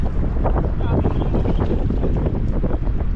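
Strong wind buffeting the microphone in a steady, loud roar at the seashore, with water and waves churning underneath.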